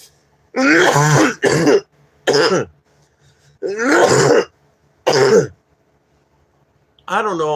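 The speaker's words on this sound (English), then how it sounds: "hold on, because I'm gonna cough." A man clears his throat and coughs in a series of harsh, close bursts separated by short silences, about five or six in all.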